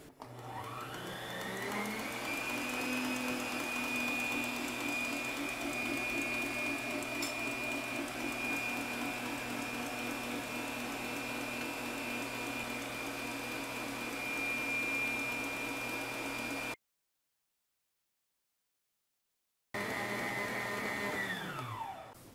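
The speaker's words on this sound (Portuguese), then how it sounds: "Agora eu vou ligar de novo a batedeira em velocidade média e vou colocando o açúcar aos poucos" An electric stand mixer beating sponge cake batter at medium speed while sugar is added gradually. Its steady whirring motor drones loudly and continuously, cuts out briefly, then restarts and winds down.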